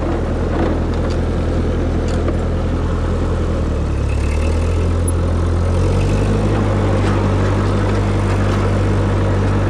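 A basic tractor with no draft control, chopping up garden soil, runs with a loud, steady engine drone that rises and shifts in pitch near the middle, heard close and continuous with no talking.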